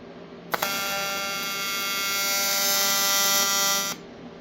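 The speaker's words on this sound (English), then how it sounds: "The next weld, I guess I didn't put enough pedal in, so it's not quite through on the inside." A pedal-controlled welder joins steel pieces for a gold highbanker. After a sharp start, it gives a loud, steady electric buzz that lasts about three and a half seconds and then cuts off abruptly.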